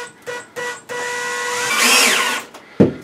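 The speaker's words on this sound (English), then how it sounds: "So I put the screw in, put the bracket up, and then finish it off." A power drill drives a screw to mount a shelf bracket in a laundry room, with short stop-start bursts of whirring building to a longer, rising run close by, then a sharp knock at the end.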